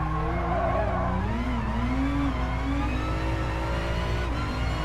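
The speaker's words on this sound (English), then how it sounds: "I think I'm supposed to just hit the rev limiter in third there" A race car engine in a sim racing game holds high revs in third gear, its harmonics wavering and stuttering against the rev limiter, loud, steady and close, with no talk over it.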